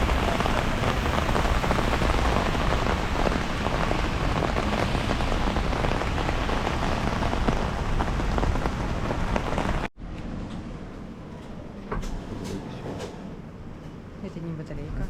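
Heavy downpour in Korea, a loud continuous roar of rain on surfaces for about ten seconds, then abruptly quieter, more distant rain with a few sharp knocks and sounds of movement nearby.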